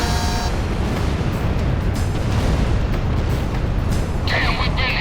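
A missile strikes an aircraft in the Ace Combat 6 video game, a heavy, roaring blast that fills the whole clip with dense, sustained rumble and a brief alarm-like tone near the end.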